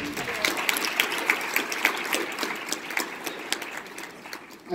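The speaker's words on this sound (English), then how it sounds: "Round of applause." A small group at a forum claps steadily, with individual hand claps standing out in an uneven rhythm before it thins out.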